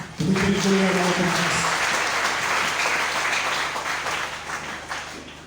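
A church congregation breaks into loud, sustained applause that fills the room and slowly fades over several seconds, with a few voices underneath.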